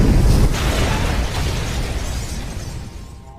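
A car blowing up in a film scene: a loud, sudden blast opens with a heavy boom, then a broad roaring rumble that slowly fades over a few seconds, with no voices.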